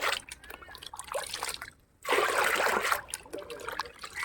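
Liquid fertiliser for tomato plants being mixed into half a bucket of water: close trickling, splashing and dribbling of liquid, with a brief quiet gap midway before a steadier, fuller pour resumes.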